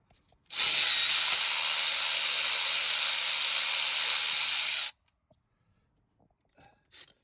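A loud power drill whirs steadily for about four seconds, high-pitched and close, loosening the 12mm water pump pulley bolts on a Lexus LS460, then cuts off abruptly, followed by a few faint clicks.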